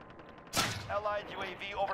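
A single sharp sniper shot in a video game cracks out loudly, then echoes and rings away over the next second and a half, with game sounds and a voice faintly mixed in.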